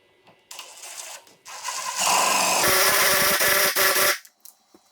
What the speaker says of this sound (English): I'm going to take this spade bit and drill right down into the middle of the leg